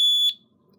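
A Radionics D6412 security alarm panel sounds a loud, piercing electronic tone that cuts off abruptly after about a third of a second, leaving near silence.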